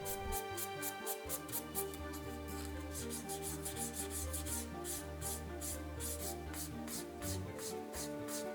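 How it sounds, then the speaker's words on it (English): Painted leather edge being sanded smooth with fine 600 grit sandpaper, a steady close rhythmic rubbing with repeated strokes running throughout, alone with no talking. "I jump up to 600 grit sandpaper to smooth out and refine that final edge."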